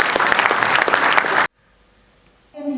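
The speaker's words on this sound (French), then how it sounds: "On peut l'applaudir également." Loud audience applause at a New Year's greetings ceremony for a French urban community council fills the first second and a half, then stops abruptly, leaving near silence before a voice starts.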